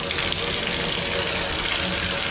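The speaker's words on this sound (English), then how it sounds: "So we get hot water there now." Hot water running from a tap in the main bathroom of a mobile home: a loud, continuous close gush of flowing water, steady throughout with no voices.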